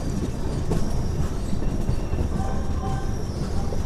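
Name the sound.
Tatanagar–Ernakulam Express train running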